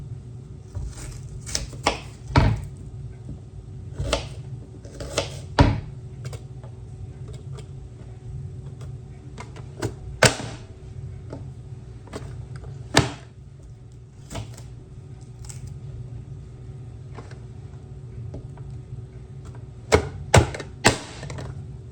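Half an onion chopped with a knife on a board, irregular crisp taps scattered throughout, clustered in short runs over a steady low background hum, with no talk.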